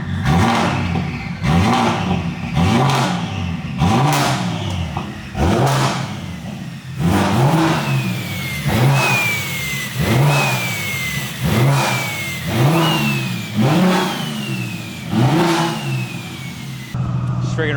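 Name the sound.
BMW M4 CS single turbo engine revving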